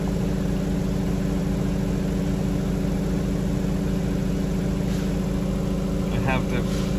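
A 2012 Mazda 6, which has a flashing DPF light and a suspected timing chain fault, idles with a steady, loud, even engine drone throughout, with a few faint clicks near the end.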